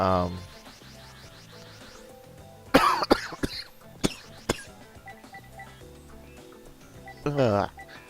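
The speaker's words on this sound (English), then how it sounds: "now I'm coughing up again" Several sharp, loud coughs from a person with a cold burst out in short clusters, one near the middle and another toward the end, over a quiet electronic card-game soundtrack.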